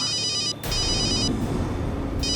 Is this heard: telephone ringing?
yes